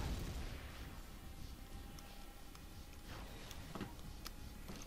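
Gunfire and explosive bursts from the Command and Conquer Renegade video game, a dense stream of distant pops and booms scattered over a steady low rumble, with a few sharper cracks standing out near the end.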